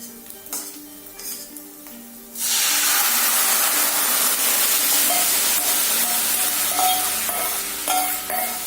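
Dal tipped into a hot ginger-and-spice tempering in a pan for a Bengali flat-bean-seed dal, erupting after a few quiet seconds of clinks into a loud, steady sizzle and hiss that persists with small stirring clatters.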